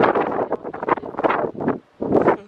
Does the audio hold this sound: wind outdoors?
yes